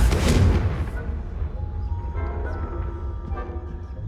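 A Confringo spell explosion in Hogwarts Legacy: a loud blast with a deep boom opens, then rumbles and decays into a lingering low roar with scattered faint crackles.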